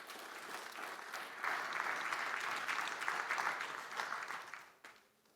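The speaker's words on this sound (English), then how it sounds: "Please, a warm round of applause for that." An audience at a presidential youth summit applauds in a steady wash of many hands clapping. The sound is fairly faint and distant, swells slightly midway, then fades out at the end.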